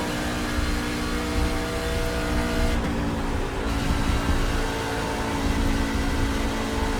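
A NASCAR truck engine in the iRacing sim drones steadily at high revs through a qualifying lap at Texas, a constant, loud, dense roar with little variation and no talk.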